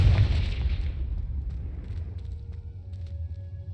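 Confringo blasting spell explosion in the video game Hogwarts Legacy: one loud, close boom that decays into a long low rumble over several seconds, with no speech.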